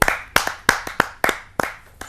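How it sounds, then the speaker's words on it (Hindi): Audience at a kavi sammelan poetry gathering clapping in a sparse, uneven rhythm, a few sharp close claps repeating roughly every third of a second with no voices over them. "आप सबकी जोरदार तालियों से उन्हें आमंत्रित करते हैं।"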